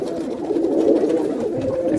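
Golden and blue Kamagar border pigeons cooing steadily at close range in a loft in Vikroli, Mumbai, a continuous low murmur of overlapping coos with no speech.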